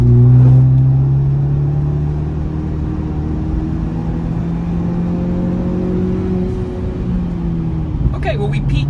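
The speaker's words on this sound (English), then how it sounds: "Let me accelerate and we'll see how loud it actually gets." A 2021 Ford Bronco fitted with a Corsa performance exhaust accelerating, heard from inside the cabin as a low engine drone whose pitch rises steadily, moderately loud and smooth, with talking over it.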